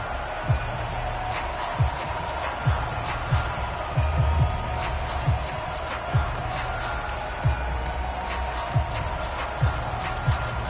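A football stadium crowd roars steadily through the whole stretch, a dense wash of cheering broken by sharp, repeated thuds and claps at an uneven pace, with no clear voice on top.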